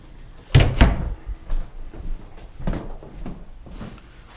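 A wind-pushed door, held by a brick, swings shut with a loud thump, followed by softer knocks and rattles as it settles, nearby and with no speech.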